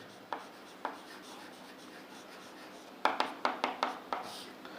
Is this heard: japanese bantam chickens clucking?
no